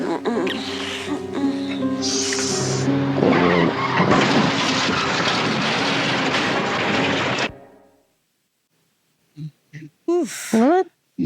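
A TV-show stunt car skids and rolls over, a dense, loud burst of screeching, crashing and music lasting about seven seconds, then it cuts off abruptly to silence before a few short voice sounds.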